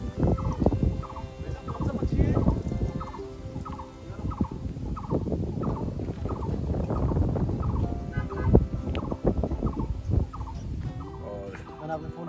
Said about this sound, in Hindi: एक बहुत अच्छी सी प्यारी सी आवाज़ आ रही है किसी पक्षी की